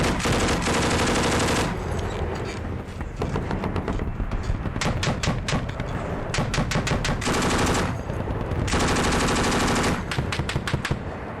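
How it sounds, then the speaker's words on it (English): Intense battle gunfire: bursts of rapid machine-gun fire mixed with single shots, loud and continuous, with heavy booms from rocket-propelled grenades and mortars between the volleys. "Machine guns, rocket-propelled grenades, and mortars roared in unison at the Americans and their Afghan allies."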